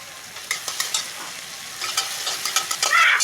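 Tomato added to hot mustard oil sizzles and spits in a pan for Assamese fish curry, with scattered stirring scrapes and crackles, growing louder and busier toward the end, with no talking.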